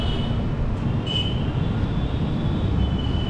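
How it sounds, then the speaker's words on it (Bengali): A train pulls into Naihati Junction station, a steady, close, heavy rumble of wheels and carriages with a faint high whine, continuous and unbroken throughout. "আমাদের ট্রেন এসে পৌঁছালো, তার যাত্রাপথের প্রথম স্টপেজ নৈহাটি জংশন"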